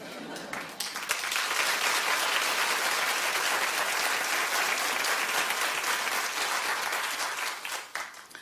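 A studio audience at a daytime talk show breaks into loud, sustained applause that swells quickly, holds steady for several seconds, then begins to fade, with faint voices mixed in.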